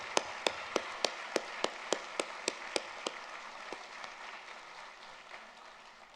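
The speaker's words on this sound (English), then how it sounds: "let's all give these folks a big round of applause" Applause at a college convocation ceremony, a dozen sharp, evenly spaced claps leading off over a spread-out crowd of clapping that slowly fades.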